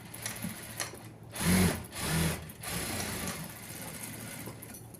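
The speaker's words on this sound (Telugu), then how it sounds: "ఈ విధంగా చేసి కుట్టు అయితే వేస్తున్నాను నేను చూడండి ఎలా కుట్టు వేస్తున్నాను అనేది చూడండి" A sewing machine stitches the waist seam of a ready-made lehenga, its motor whirring up in short bursts and then running steadily, close and clear with no talking.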